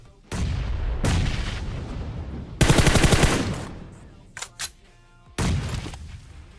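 Loud bursts of rapid gunfire in the video game PUBG, in several volleys separated by short pauses, with no voices.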